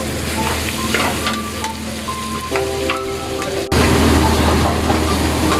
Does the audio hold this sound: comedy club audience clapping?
no